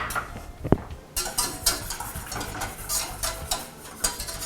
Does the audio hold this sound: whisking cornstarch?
yes